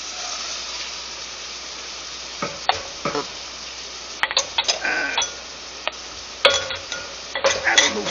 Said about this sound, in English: see how they're sizzling, they're coming along nice